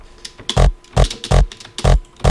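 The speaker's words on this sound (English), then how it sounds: "I just took this Hardpsy Kick, and if you listen closely, there is this part here that is so cool" Hardpsy kick drum sample with a heavy bass body: five loud, punchy hits at a steady pace, each a sharp attack with a deep low-end thump, played alone.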